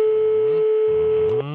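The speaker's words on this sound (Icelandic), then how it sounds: "Og það hringir eðlilega hringingu." A telephone ringing tone on an international call to France, one steady loud electronic tone sounding continuously and then cutting off, with faint voices underneath.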